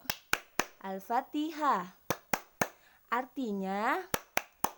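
Sharp, evenly spaced hand claps keep a rhythmic beat for a children's Al-Fatihah song, falling in quick clusters between short sung phrases from a single voice.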